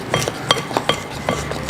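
A spoon stirring a dry flour mix with baking powder and cornstarch in a bowl, making quick rhythmic clinks and light scraping knocks against the bowl, close and moderately loud, with no voices.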